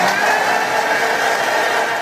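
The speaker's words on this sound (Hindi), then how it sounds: "ब्लेंड कर लेंगे।" A blender whirring steadily as it blends mango, chilled milk, sugar, cardamom powder and ice cubes into a milkshake, one loud continuous motor drone that cuts off abruptly at the end.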